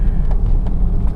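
A Porsche 911 Carrera 4 being driven, with a steady low engine and road rumble that holds at an even loudness close by, without talk over it.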